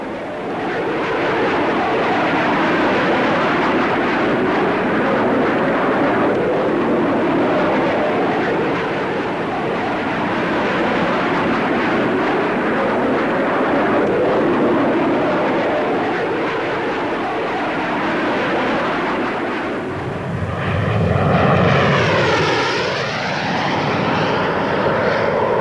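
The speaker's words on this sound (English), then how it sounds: "The two-seater trainer is a new version." A Hawker Hunter two-seater trainer jet, a 1950s RAF aircraft at Farnborough, roars loud and continuous, then swells near the end as it passes close overhead with a sweeping whine.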